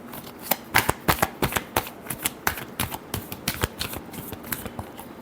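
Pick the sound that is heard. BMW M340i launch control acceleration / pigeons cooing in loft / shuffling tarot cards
shuffling tarot cards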